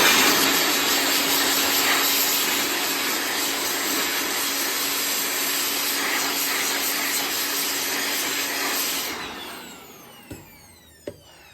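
An air blower roars steadily and loudly for about nine seconds, drying out wet fridge electrics, then cuts off and spins down, leaving a couple of faint clicks in the quiet.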